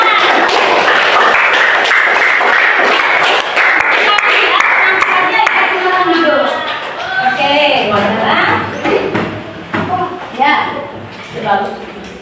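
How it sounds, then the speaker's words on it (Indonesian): Classroom audience clapping, a dense sustained round of many hands at first, then thinning out as voices and chatter take over toward the end. "Oke, terima kasih. Tepuk tangan."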